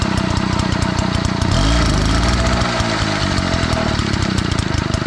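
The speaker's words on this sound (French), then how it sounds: "la mob elle a démarré" A moped engine idles loudly and steadily close by in a barn after a long layup, with a brief rise in revs partway through before settling back to an even putter.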